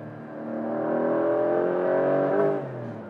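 Porsche 911 GTS T-hybrid of the 992.2 generation, its engine revving in one smooth, rising and falling run of about three seconds, heard from inside the car, close and loud, with no talking.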